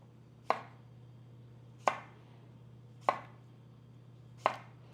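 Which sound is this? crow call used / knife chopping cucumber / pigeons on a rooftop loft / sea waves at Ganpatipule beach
knife chopping cucumber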